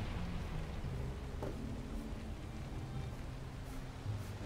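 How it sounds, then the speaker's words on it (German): Steady rain falls in the video game Valheim, a constant soft hiss and patter with a low rumble beneath, even and unbroken throughout, no voices over it. "weil es regnet"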